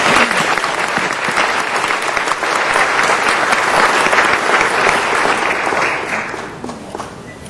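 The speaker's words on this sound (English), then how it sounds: "Can we give the mayor another round of applause?" A room gives the mayor another round of applause during a city council meeting. The clapping is full and sustained from many people for several seconds, then tapers off softly near the end.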